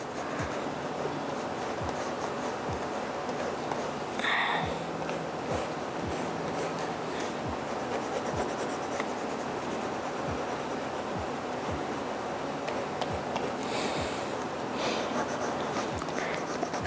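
A pencil scratches little squiggles on paper for a coloring drawing, giving soft, close, repeated short strokes in an irregular rhythm, with faint rustles between them.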